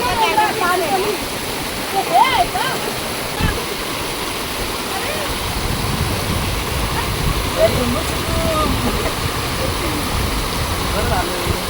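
A waterfall high in the hills on a forest trek near Ghatkopar, a steady broadband rush of falling water filling the whole clip at fairly loud, constant level, with faint voices and small splashes now and then.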